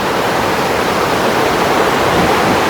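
Loud, constant rushing of flowing water, a dense broadband roar with no pauses, close by and unchanging.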